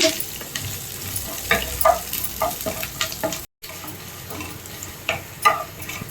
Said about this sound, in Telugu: ఇదిగోండి ఈ విధంగా అయితే గోల్డెన్ కలర్ వచ్చినంత వరకు వేయించుకోవాలండి